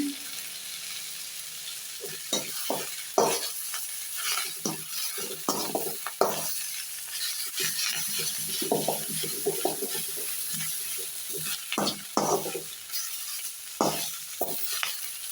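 Finger millet adai mixture with drumstick leaves sautéing in a pan, a soft sizzle under repeated close spatula scrapes and stirs.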